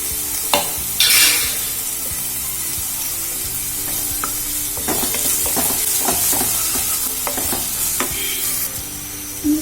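Chopped onion sautés in a pan for wheat uppumavu, giving a continuous close sizzle and hiss. Repeated sharp scrapes and taps from stirring break through at irregular intervals.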